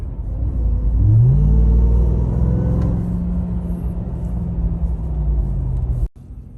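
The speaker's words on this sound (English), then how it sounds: "just hearing that supercharger spool" A 2021 Ram 1500 TRX's supercharged 702 hp engine revs up and rumbles, with a rising supercharger whine over the deep exhaust, steady and close, cutting off abruptly at the end.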